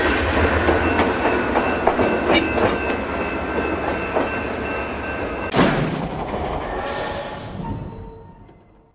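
A San Luis & Rio Grande Railroad train departs in the morning, rolling nearby with a loud rumbling roar and rhythmic clickety-clack of wheels over rail joints, then a sharp burst of noise before the sound fades away.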